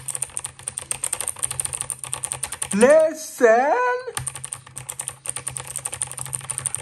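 An Acer Predator Aethon 500 keyboard with blue switches clatters under fast, steady typing, the crisp keystrokes close and continuous, broken briefly in the middle by a spoken voice.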